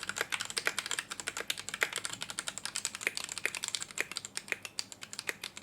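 Rapid, steady clacky keystrokes on a modded Noir N1v3 mechanical keyboard, close and crisp, typed alone with no talking.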